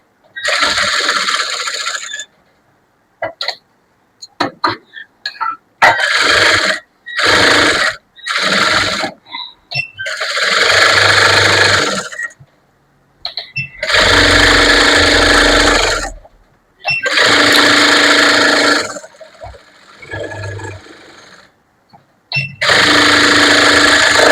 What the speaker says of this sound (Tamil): பக்கத்தை திருப்பிடுங்க, சுத்திலும் தையல் போடணும்